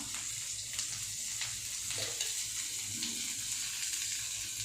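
Potatoes fry in a little oil on a new griddle over a low flame, giving a steady, close hiss with a few faint scrapes from stirring now and then.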